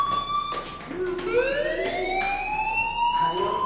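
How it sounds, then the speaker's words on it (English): A school fire alarm wails in the game Life Is Strange, a rising electronic siren tone that sweeps upward and holds steady, loud and continuous with no talking. "Hey, do you hear that fire alarm?"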